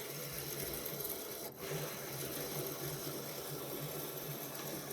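A Formax AutoSeal FD 2056 tabletop pressure sealer folder's plates reset with a steady mechanical whirring and rasping hum throughout, briefly dipping once before carrying on evenly.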